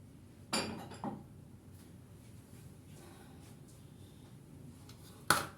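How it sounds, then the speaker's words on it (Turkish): A few sharp clinks and clatters of dishes being set into a dishwasher rack, spaced out with quiet gaps between, ending on a louder clatter. "Bulaşıkları da makineye yerleştirelim şu tarafa."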